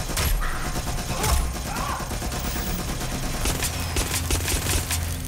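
Gunfire rattles through a Watch Dogs: Legion fight, loud and relentless, with rapid automatic bursts and scattered single shots packed together and a denser volley toward the end.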